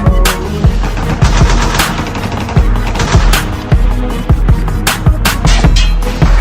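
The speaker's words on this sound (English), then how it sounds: "Sounds like gunshots everywhere I go." Rapid, loud machine gun bursts and gunshots, dense overlapping cracks that fire continuously and fill the whole stretch with no voices.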